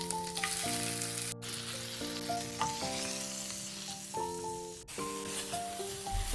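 A crushed paste of coconut, shallots, green chilli and turmeric sizzles in ghee with mustard seeds, a soft, continuous frying hiss beneath prominent melodic background music.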